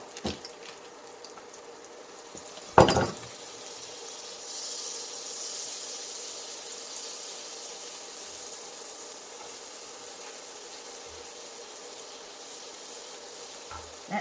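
Cauliflower dropped into hot oil and butter in a pan, a sharp burst of sizzle followed by a steady, moderate hiss of frying that holds for the rest of the stretch.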